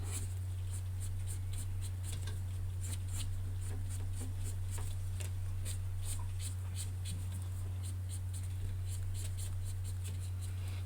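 Soft, steady scratchy rubbing of a blender pen tip on paper, close and quiet, with a constant low electrical hum underneath.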